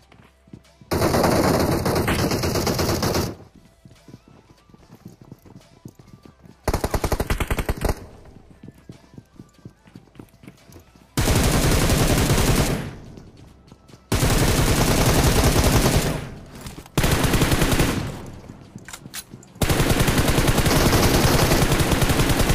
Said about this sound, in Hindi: अब यहाँ पे भाई एक बंदा मेरे पे फायर करता है